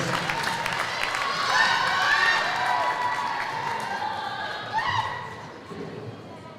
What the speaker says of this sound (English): Let's give one more round of applause for Calissa Minity.